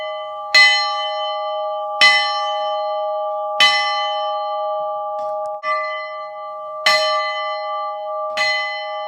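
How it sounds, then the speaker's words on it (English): A locomotive bell at a railroad park museum rings out in slow, steady strokes about every one and a half seconds, each clang ringing on with a sustained hum between strikes. "they also let you ring the locomotive's bells"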